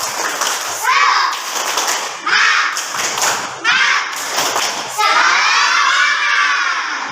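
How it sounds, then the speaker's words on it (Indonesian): Schoolchildren in a classroom perform a 'tepuk semangat' clapping chant, several loud bursts of clapping and shouted voices in a rhythmic pattern, with a longer sustained group shout at the end. "Kita tepuk semangat dulu. Tepuk semangat."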